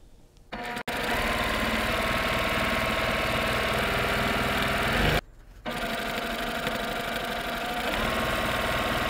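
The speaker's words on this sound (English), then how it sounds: "sew all the way down, right sides together, quarter inch seam down the entire length" A sewing machine runs a quarter-inch seam down the full length of jelly roll quilt strips sewn right sides together, a steady loud whirring drone that stops briefly partway through and then resumes.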